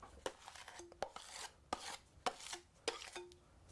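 Quiet, irregular scraping and knocking strokes with a few brief squeaks as premixed compound is stirred by hand in a container without added water, close up.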